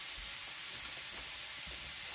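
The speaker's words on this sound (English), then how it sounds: "I'm going to cook the sausage. I'm just going to cook it in the pot that the pancakes went in." Sausage cooks in a pot that was just used for pancakes, giving a steady, even sizzle with faint pops and no voices over it.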